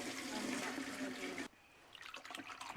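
Water poured into a bucket to rinse it outdoors while cleaning fish, a steady splashing gush lasting under two seconds that stops abruptly, followed by faint drips and handling noise.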